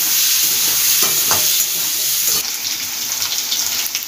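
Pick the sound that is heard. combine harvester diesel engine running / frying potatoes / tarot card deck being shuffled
frying potatoes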